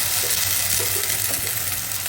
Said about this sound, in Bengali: এখানে আমি একটু পানি দিয়ে দিচ্ছি।